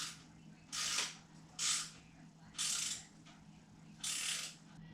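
A ratcheting tool tightens the second pinch bolt on a bicycle headset in four short, close bursts of rapid clicking, separated by brief pauses, no talking.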